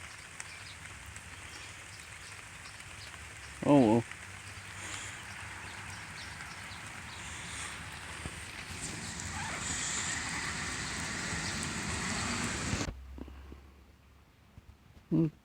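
Steady rain patters outdoors at a camp where dogs lie out in the weather, a continuous close hiss throughout with a couple of brief sharp sounds and a short spoken remark, before the rain cuts off near the end.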